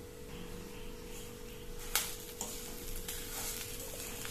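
Agathi spinach leaves tossed in a hot pan with the stove just switched off, giving a soft steady sizzle and scraping stir with a few sharper clicks of the spoon, fairly quiet and with no talking.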